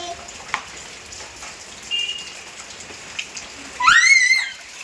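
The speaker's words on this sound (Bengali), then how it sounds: "আর বৃষ্টি পড়ছে।" Soft, continuous patter of rain on surfaces fills the background, with a couple of faint clicks and a brief raised voice near the end.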